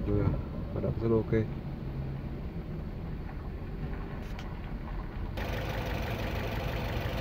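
The engine of a Toyota Vios hums steadily and evenly at idle, close by. Someone talks over it for a while, and the hum continues alone after he stops.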